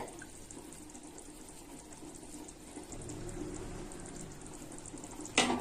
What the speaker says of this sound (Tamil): வாங்க கொதி வந்துட்டு இருக்குது பாருங்க நல்லா கொதி வருது